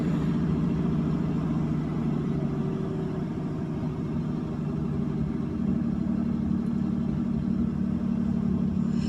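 A 1952 Ford Customline's flathead V8 idles steadily after a cold start, a low, even rumble that stays near and constant throughout with no talking.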